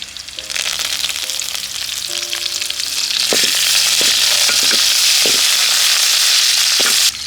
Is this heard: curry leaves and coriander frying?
yes